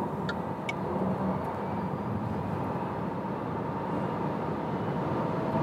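A 2023 Renault Megane E-Tech electric car accelerates toward top speed on a German Autobahn, heard from inside as a steady, rising rumble of road and wind noise, with no speech.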